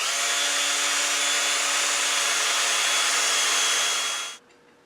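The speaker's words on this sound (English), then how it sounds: "So I'm going to see if I can't do a through hole with this." Drill boring a through hole in wood, a loud steady high-pitched motor whine held for about four seconds before cutting off abruptly, leaving faint low hum.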